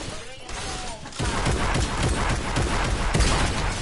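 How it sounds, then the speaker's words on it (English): Repeated heavy blasts from a grenade launcher in Fortnite, rumbling thumps and bursts that crowd together after the first second, with a voice talking over the din. "Grenade launcher"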